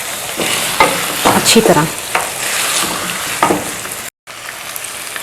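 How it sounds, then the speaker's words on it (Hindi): Creamy chicken sautés in a pan, a loud, close, continuous sizzle broken by bursts of spoon stirring and scraping, with a few words spoken briefly. "तकरीबन 5 मिनट हो गए मुझे भूनते हुए, तो अभी 5 मिनट और भूनना है इसको"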